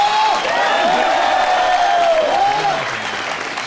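A studio audience at a Colors TV comedy show bursts into loud, sustained applause with some cheering and whoops to welcome Bharti and Karan, and a voice carries on over the clapping as it gradually eases.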